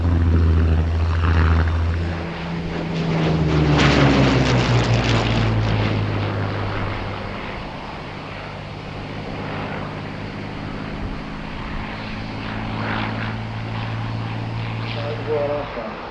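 A French Air Force Alpha Jet roars overhead at an airshow, its engine tone sliding downward as it passes, then a steady distant drone lingers with crowd noise and talk underneath.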